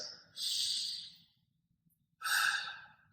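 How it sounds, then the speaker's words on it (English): Two big, deep breaths during a trauma release exercise, each a long airy exhale, close and clear, separated by a short quiet pause. "take 3 big breaths"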